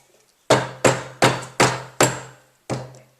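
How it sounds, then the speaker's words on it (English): Six sharp, ringing metallic taps of a hammer striking silver wire on a steel ring mandrel, evenly spaced about half a second apart with a short pause before the last, close and clear with no talking. "I'm just going to give it a few taps on the ring mandrel just to see how soft or hard it is"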